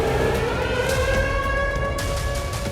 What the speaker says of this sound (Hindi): रूस में सायरन गूंज रहे हैं।